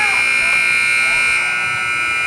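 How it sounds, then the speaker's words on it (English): A long, loud scoreboard buzzer drones at a high-school basketball game, one steady harsh electronic tone held for the whole stretch, close and dominant, fading only slightly near the end. "The extended buzzer."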